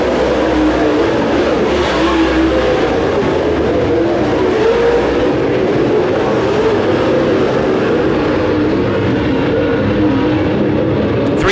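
Late model race cars circle a West Michigan short track, a steady loud engine roar that holds for the whole stretch with no voices over it.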